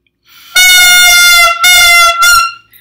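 A clarinet played with too much mouthpiece in the mouth, producing a loud, shrill, horn-like squeal in three blaring bursts, close and alone.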